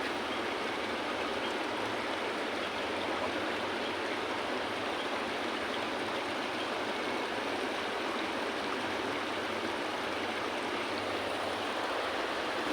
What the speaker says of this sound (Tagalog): so malakas ang tubig.